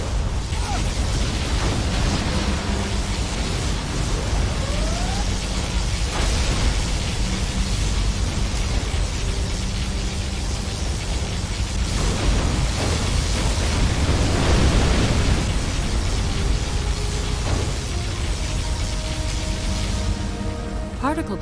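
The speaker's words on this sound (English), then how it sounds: "Particle cannon activated." Sustained particle cannon strike in Command & Conquer Generals Zero Hour: a long, loud, rumbling roar of explosions that swells and recedes in bursts, with heavier blasts near the middle and faint electronic tones.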